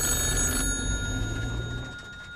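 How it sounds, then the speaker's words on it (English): An old telephone bell rings close by, a single loud metallic trill that fades out within a couple of seconds. "The phone rang."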